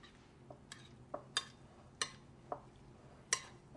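Dressing being mixed into salad vegetables, a few separate light clinks and taps of a utensil against a bowl at irregular intervals, close and quiet without speech.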